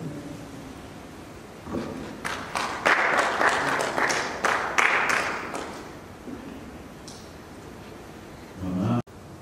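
A church congregation applauds during a Sunday worship service, a burst of clapping that swells for several seconds and then fades, with a brief louder rustle near the end.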